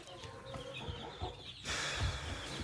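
Chickens cluck and murmur close by, with a burst of louder fowl noise partway through over a busy farmyard background.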